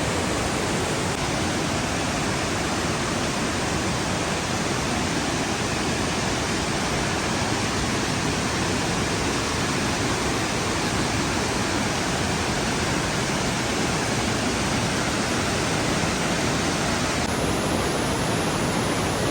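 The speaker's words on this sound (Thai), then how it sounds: "น้ำตก" Janet's Foss waterfall in England pours in a constant, dense roar of falling water, unbroken and steady from start to finish with no voices.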